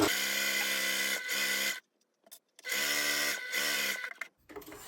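Sewing machine stitching a padded laptop sleeve at 2.5 stitch length with the needle centred, running in two long bursts separated by a short pause for the back stitch at the start, loud and close with no talking.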